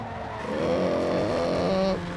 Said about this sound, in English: The sounds of my engine as I over-rev it